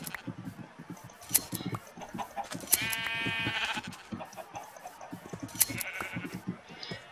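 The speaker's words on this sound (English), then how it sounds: "Look, it's sheep! Sheep! Shear them." Sheep bleat in a Minecraft-style survival video game, a few nasal calls rising over busy clicking and tapping game sounds, moderately close.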